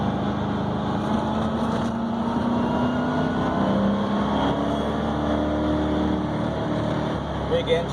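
Porsche 928 with a 4.5 liter V8 and 5-speed manual driving on the road, a steady deep engine drone with road rumble heard from inside, while someone talks over it.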